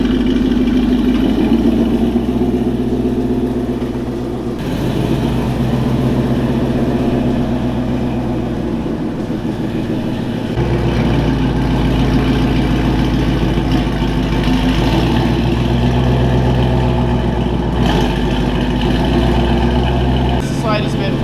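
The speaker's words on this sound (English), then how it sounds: "is a comparison of how loud the exhaust is when you just normally drive it." A Whipple supercharged Ford Mustang GT cruises in normal driving, its exhaust giving a continuous, loud low drone with gentle shifts in pitch as the engine load changes, and people talk over it inside the car.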